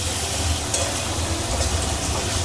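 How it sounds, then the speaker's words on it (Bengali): Tomato paste with spices frying in a pan for a Bengali vegetarian dish, a steady close sizzle with occasional stirring scrapes. "টমেটো বাটাটা দিয়ে একটু কষে নিই,"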